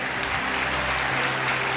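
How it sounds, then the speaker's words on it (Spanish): Church congregation applauding in a steady, dense wash of clapping with no pauses, loud and close throughout. "Dale un aplauso al Rey de Reyes."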